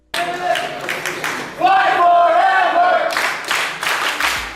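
A Philippine pro wrestling crowd chants in unison with bursts of clapping, a loud rhythmic chorus of many voices filling the arena.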